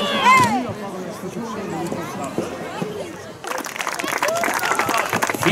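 Spectators at a staged Roman gladiator fight between a retiarius armed with a net and a secutor break into applause and crowd noise in the second half, following a stretch of loud talk and cheering.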